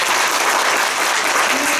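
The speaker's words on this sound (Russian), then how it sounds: "Еще раз аплодисменты." Loud, dense applause from an audience at a young scientists' competition, continuous even clapping filling the room up close for the whole stretch, with no voices standing out.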